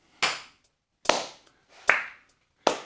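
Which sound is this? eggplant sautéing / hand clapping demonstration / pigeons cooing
hand clapping demonstration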